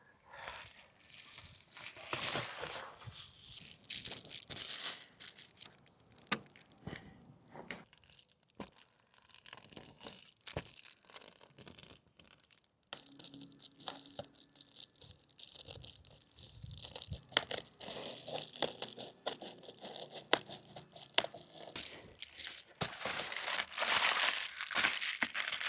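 Tape being torn and handled outdoors in wind while outfitting a Subaru for emergency car camping, with repeated crinkling, ripping and sticky peeling sounds in irregular bursts, fairly close and steady throughout.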